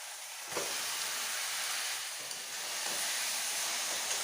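Chicken frying with onion and tomato in a hot pan, giving a steady loud sizzle with a sharp burst as the pieces go in, continuous and close with no talking.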